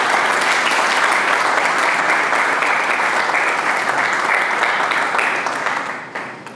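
Sustained, loud audience applause at a symposium in Mexico City welcoming a speaker, steady dense clapping for about six seconds before tapering off at the end.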